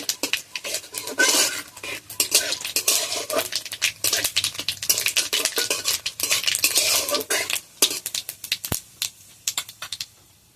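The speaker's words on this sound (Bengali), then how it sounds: "শুকনো লঙ্কা আর গোটা গরম মশলা আর গোটা জিরে আমি ফোড়নেতে দিয়ে দেবো" Dried red chillies, bay leaves, whole garam masala and cumin hit hot oil for a ghugni tempering, a loud close crackle of spitting oil mixed with clattering metal spoon and pan, continuous and busy, with no voices.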